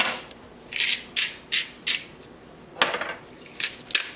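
Garlic clove being mashed in a pot of red wine, giving a run of short scraping, rubbing strokes of utensil against cookware, about six bursts at an uneven rhythm, close and moderately loud with no talking.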